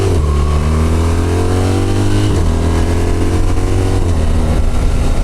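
A 2026 BMW R1300RT sport-touring motorcycle in automatic mode accelerates on a highway, its engine note climbing through rising pitch sweeps with a brief dip as it shifts, loud and continuous with wind noise.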